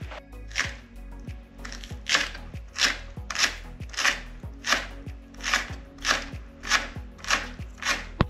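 Knife chopping washed spring onion on a cutting board, about a dozen crisp, evenly spaced chops in a steady rhythm, close and clear with no talking.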